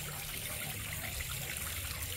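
A small waterfall spills steadily into a fish pond at a restaurant, a continuous soft trickle and splash heard close and evenly, with no other sounds standing out.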